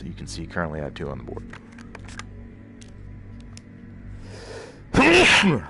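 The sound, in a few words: sneeze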